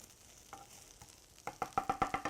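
Baby corn and tofu stir-fried in a pan: a soft sizzle underneath, then a quick run of sharp, evenly spaced spatula scrapes and clacks against the pan toward the end.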